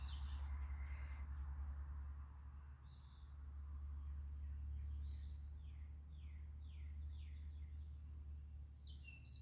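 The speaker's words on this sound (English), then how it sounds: "Do you hear the birds?" Faint birds chirp in short repeated high calls over a steady low hum and insect buzz, distant and outdoors with no voices.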